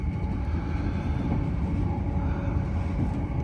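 An LNER train runs through Stirling Station without stopping, heard from inside as a steady, loud low rumble and rolling roar that holds evenly throughout.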